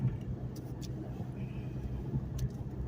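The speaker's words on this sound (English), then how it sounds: "My car is a Mustang. It's a 1998 Mustang." A 1998 Ford Mustang drives along small-town roads: a low, steady engine and road rumble from inside the car, fairly quiet, with a few faint clicks and knocks on top.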